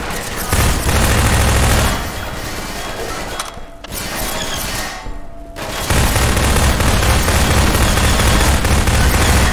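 Dense, loud gunfire and crashing impacts from a Half-Life 2 firefight, with heavy bursts at the start, a brief lull, then a sustained barrage continuing to the end.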